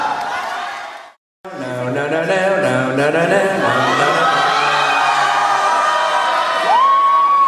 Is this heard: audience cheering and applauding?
yes